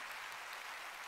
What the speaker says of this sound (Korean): 박수 치려면 치고 말려면